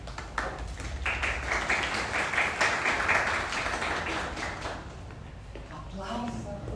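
Audience clapping at an evening lecture on mobilizing socio-spatial groups, a steady wash of applause mixed with crowd murmur and voices that runs throughout and fades slightly toward the end.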